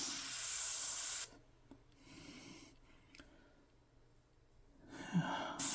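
Airbrush hissing paint onto a t-shirt, fed by a 6 or 7 gallon air compressor, a loud close burst of spray at the start, then quiet soft hiss and a second short spray near the end.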